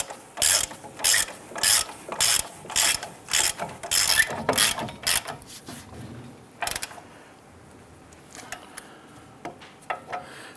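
Hand ratchet snugging caliper bracket bolts on a 2002-2008 Dodge Ram 1500, a close series of sharp clicking strokes in quick rhythm that slows and thins to a few scattered clicks, with no talking.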